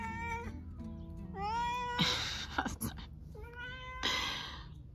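A cat meows several times at close range, each call rising and bending in pitch, with brief rustling and clattering between the calls on a household terrace.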